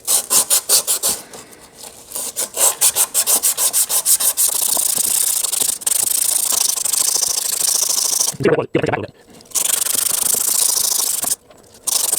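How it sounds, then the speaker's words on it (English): Rubbing and scraping on a Honda-engined Husqvarna lawn mower crankshaft, with rapid rhythmic back-and-forth strokes, then longer continuous scrubbing broken by a few pauses and knocks, close up. "Let's clean up our crankshaft a little bit so we can slide something on there"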